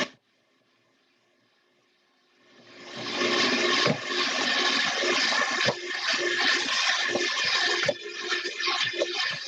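Warm water poured into a bowl of flour for no-knead bread dough, a sudden rising rush of liquid that becomes a steady, loud, close gushing pour with no talking.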